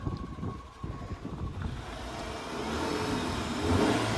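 Car engine, rebuilt after being opened up three times, revving up as the accelerator is pressed, the rumble building gradually to a louder, sustained roar, with some wind noise on the microphone.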